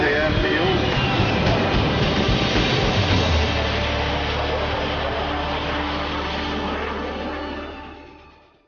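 An Antonov An-225 Mriya jet aircraft at the Paris Air Show at Le Bourget airfield gives a loud, steady broadband roar under an announcer's voice, then fades away over the last second or so.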